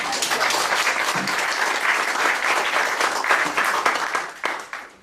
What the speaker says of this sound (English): I think David should get a round of applause.